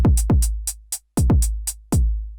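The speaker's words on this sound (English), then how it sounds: "we're going to start off with a kick drum on the downbeat of beat 1" Deep electronic kick drum hits from a Pocket Operator drum machine thump in a repeating pattern, each boom decaying quickly, with crisp hi-hat ticks between them, loud and up close.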